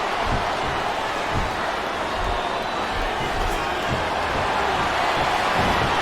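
Arena crowd noise from the wrestling video game WWE SmackDown vs. Raw 2007, a steady, dense roar that holds at an even level throughout with no clear peaks.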